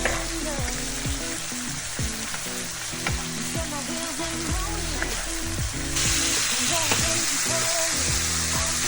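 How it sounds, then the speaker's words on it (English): A seasoned mixture with black pepper, lime juice and paprika sizzles steadily in a pan while a utensil scrapes and taps through it in repeated stirring strokes. The frying grows a little louder near the end. "I give it a good stir and let it cook for about 3 minutes"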